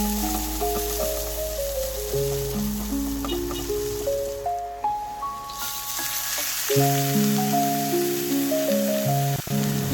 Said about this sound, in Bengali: এবার ওই তেলেই এলাচ, তেজপাতা, কিছুটা পেঁয়াজ দিয়ে ভালো করে ভেজে নিব।